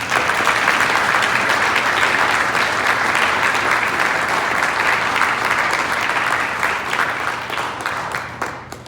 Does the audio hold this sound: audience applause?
yes